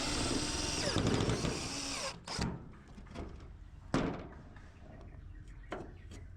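Power drill driving screws to fix a Shera fibre-cement plank onto a steel frame, a loud sustained whirring run that cuts off, followed by a few short bursts and clunks.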